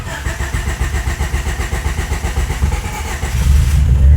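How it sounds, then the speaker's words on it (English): A 1988 Honda Accord that has sat unused cranks with rhythmic starter churning for several seconds, then catches and fires into a louder running engine near the end, close and loud. "I'm gonna go ahead and fire it up here."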